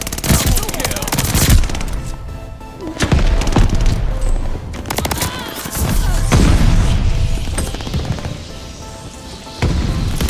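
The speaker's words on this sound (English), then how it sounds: "I'm using that kid's shotgun against this team now." Repeated shotgun blasts and rapid gunfire ring out in a first-person shooter video game match, loud, sharp bursts with booming impacts spread across the stretch, with a voice faintly talking in places.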